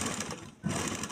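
A sewing machine runs steadily, stitching the elastic waistband of a kali palazzo at a boutique. It whirs close and continuously with a brief slowdown midway and no voice.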